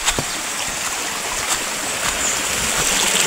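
A clear mountain stream in Taplejung, Nepal, flows in a constant close-up babble and hiss. A few faint clicks and knocks sound over the water, and no one speaks.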